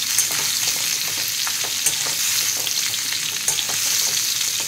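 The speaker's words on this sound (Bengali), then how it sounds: "পটল আর আলু একটু হালকা করে কষে নিলাম" Pointed gourd and potatoes sauté in hot oil in a pan, giving a steady, loud sizzle broken by frequent small pops and occasional stirring scrapes, with no voices.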